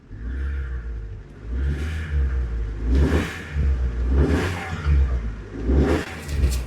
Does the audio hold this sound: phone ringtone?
no